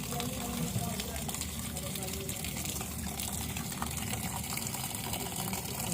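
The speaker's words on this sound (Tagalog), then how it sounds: "So, ngayon, lagyan natin ng tubig." Water runs steadily into a cooking pot in a home kitchen for several seconds, a continuous close gushing and splashing that fills the whole stretch without pause.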